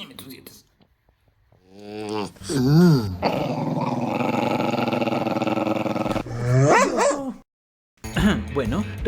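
A pet dog named Mojo growls and snarls up close, loud and sustained, with throaty rising and falling rumbles and barky bursts around a long steady growl, broken by short pauses.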